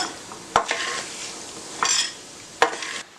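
Semolina dry-roasting in a pan for rava laddu, with a utensil scraping and stirring in three sharp strokes over a soft, steady background hiss.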